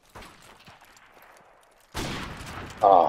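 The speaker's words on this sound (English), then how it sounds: "Swear to God, Matt, your gun shoots quicker." Sniper rifle shots in a free-for-all match of a Modern Warfare game on a beach map: a faint early crack, then a loud blast near two seconds and another sharp shot at the end, alone with no talk.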